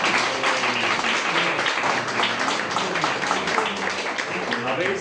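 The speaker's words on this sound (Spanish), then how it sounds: "un aplauso para esta primera parte" Audience applause at a religious talk, a continuous broadband patter of many hands with voices mixed in beneath it.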